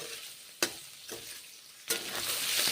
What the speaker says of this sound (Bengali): এইভাবে ভেজে নিচ্ছি সজনে ডাঁটা, পেঁয়াজ ভেজে নিচ্ছি